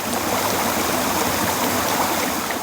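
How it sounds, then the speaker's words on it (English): A small creek on a walking trail between Labro and Poggio Bustone flows steadily nearby, a loud continuous rushing and burbling of water with no voices. "Need to just get across this little creek and the path resumes on the other side."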